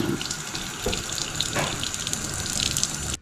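Tap water runs and splashes steadily over a KOSPET TANK M3 smartwatch, a continuous close hiss and spatter of faucet flow lasting the whole moment with no voices.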